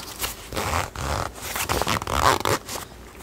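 A jacket zipper is pulled in several quick, close, scratchy runs, with short pauses between strokes.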